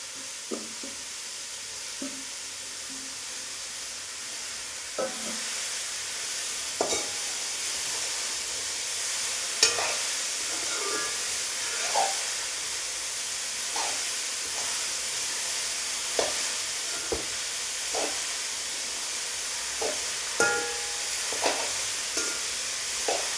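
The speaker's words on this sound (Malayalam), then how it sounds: "അത് ഞാൻ ഈ താള് ചേമ്പിൻ്റെ തണ്ട് ഇതിനകത്തേക്ക് ഇട്ട് കൊടുക്കാം" Washed, chopped taro leaf stems stir-fry in a pan for a Kerala thoran, a steady hiss and sizzle with repeated scraping stirs of a spoon, close by and with no talk.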